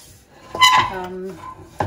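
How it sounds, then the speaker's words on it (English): A spoon clinks and scrapes against a pan while stirring walnut laddoo mixture on the stove, a short close metallic ring followed by rubbing strokes and a final knock. "I'm just going to mix it all up"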